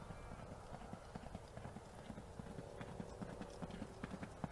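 Racehorses gallop down the straight toward the winning post, their hooves making a quick, steady drumming rhythm over a dense, noisy outdoor background, with a commentator faintly audible.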